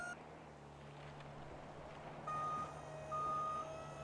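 A smart ladder on a fire truck in a video game extends and lowers with a faint mechanical hum, a steady engine drone beneath and thin warning-like tones appearing as it moves, quiet and without talk.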